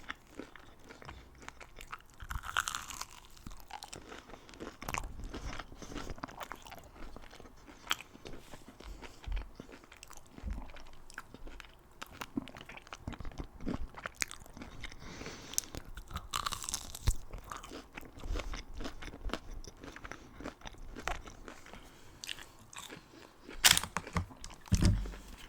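Crunchy cheese balls chewed close to the microphone at a mukbang meal, with repeated crisp bites and crunching, irregular and loud, with short quiet gaps between mouthfuls.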